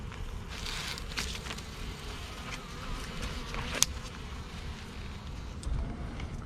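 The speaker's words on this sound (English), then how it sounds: "Let's take a look at the bees flying in front of the yellow hive." Honeybees fly in front of the entrance of a yellow hive in spring, a faint, steady low buzzing hum with a soft outdoor background and no talking.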